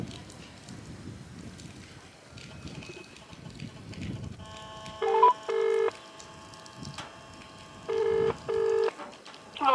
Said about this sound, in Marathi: आता आपण मोटर चालू करून पाहूया यात या टाकलेल्या सिमवर मी कॉल करतो